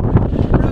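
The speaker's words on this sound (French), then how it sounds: "Le vent est chaud, extraordinaire. Ça fait un boucan dans les mains." Hot wind blowing on the island of La Gomera, buffeting the microphone in loud, rough low gusts that swell and fade over a brief moment.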